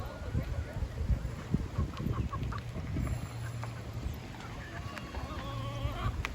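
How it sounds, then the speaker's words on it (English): Free-roaming chickens in Key West clucking among outdoor street bustle, with faint voices and background noise throughout. "we saw the chickens, which are everywhere"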